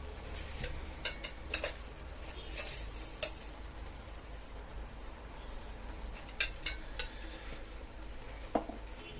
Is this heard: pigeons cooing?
no